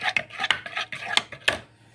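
Liquids and a chemical solution thickened with xanthan gum being mixed: a utensil scrapes and clinks against the container in quick, irregular strokes with sharp ticks.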